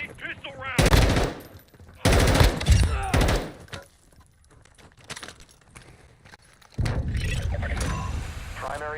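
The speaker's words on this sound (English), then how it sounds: "I'm taking fire!" Video game gunfire in loud bursts of rapid automatic shots, with separate volleys broken by quieter gaps and a final sustained burst of fire.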